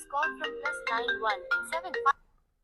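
A mobile phone ringtone plays a bright melodic tune at a gurdwara, Patshahi 10 Theri Sahib, loud and close for about two seconds before cutting off to silence.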